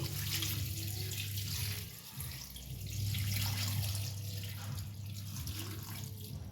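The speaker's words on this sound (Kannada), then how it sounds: "ನಾನು ವಾಟರ್ ಹಾಕ್ತಾ ಇದ್ದೀನಿ" Water runs steadily into a bowl of grated coconut and salt, a continuous close splashing pour with a brief dip midway, with no talking.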